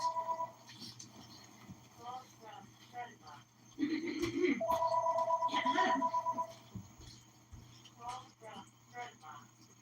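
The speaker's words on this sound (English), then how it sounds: "The phone is ringing." A telephone rings indoors in short repeated electronic trills, moderately loud, between bits of someone talking.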